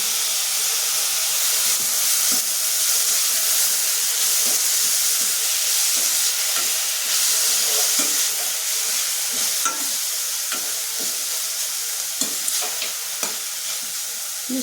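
Chopped tomato frying in a pan of browned ingredients for bisi bele bath, a loud continuous sizzle and hiss with scattered soft crackles and stirring scrapes throughout.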